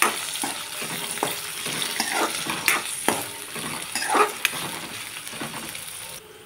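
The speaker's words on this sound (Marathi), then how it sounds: "हे आता मस्त फ्राय करून घ्यायचं आहे." Garlic, carrot, tomato and peas fry in a pan for homemade fried rice, a steady close sizzle punctuated by repeated scraping and tapping of a spatula stirring the vegetables.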